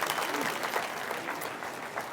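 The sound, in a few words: audience applause for volunteers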